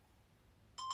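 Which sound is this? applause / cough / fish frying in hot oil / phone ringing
phone ringing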